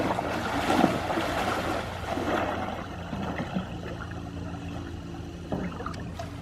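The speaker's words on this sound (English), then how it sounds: "I'm gonna go wading a little bit deeper" Shallow river water rushes and sloshes steadily around someone wading out deeper, with a couple of louder splashes over a continuous close wash of flowing water and no talking.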